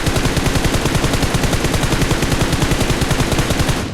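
Rapid automatic gunfire from PUBG Mobile, a loud, dense stream of shots rattling steadily and close for the whole span with no pauses.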